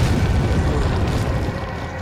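A gunpowder explosion in Resident Evil 4: a dense, sustained low boom with rumbling crackle filling the full two seconds, loud and close with no talk over it.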